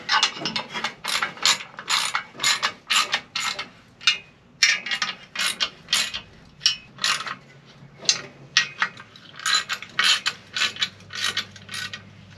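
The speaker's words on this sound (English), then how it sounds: "As we snug up the pressure plate, I'm going to try to do it somewhat evenly." A ratchet snugs down the clutch pressure plate bolts on a Dodge Power Wagon during a four-speed swap, with close bursts of rapid clicking pawl strokes that pause and repeat as each bolt is tightened in turn.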